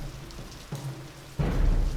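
Rain and thunder in the whaling video game Nantucket: a steady hiss of rainfall that swells into a louder, deeper rumble of thunder toward the end.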